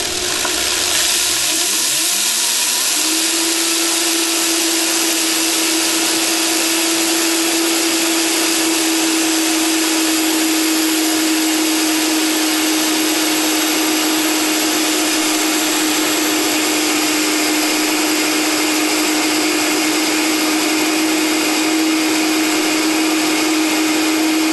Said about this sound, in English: usually when you start the Vitamix, you start on low speed, and then you gradually turn it up and kick it in high